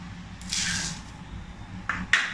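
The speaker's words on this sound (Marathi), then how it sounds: "सगळं एकत्र तीन चार पाण्याने मी धुवून घेणार" Rice, urad dal, moong dal and sorghum are washed together in water, heard as two short, close, wet swishes and squelches over a quiet background.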